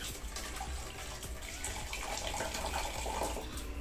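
Tap water gushes steadily into a homemade water heater, a continuous splashing, bubbling stream heard close up with no talking over it.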